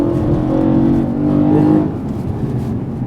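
A Japan Red E92 BMW M3 engine with a Stage 2 package growls loudly and steadily through the intake plenum, swelling briefly before easing back to a lower rumble.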